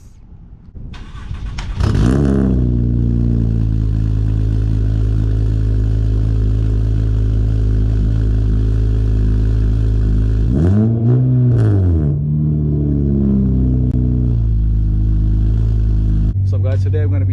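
An Acura V6 car engine turns over and settles into a steady, loud idle close by, heard from behind the car, with a brief rev near the middle before returning to a smooth hum.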